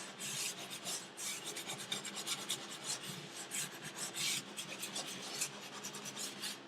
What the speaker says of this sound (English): I'm going to wipe it down with my Enviro.